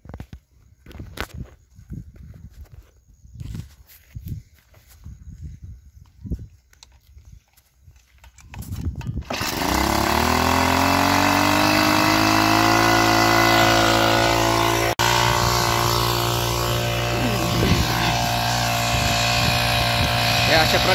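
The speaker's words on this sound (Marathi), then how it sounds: "आपण इंजिन चालू करू आता" A soybean spray machine's engine cranks and catches after several seconds of footsteps and handling, then runs on loud and steady with an unbroken drone to the end.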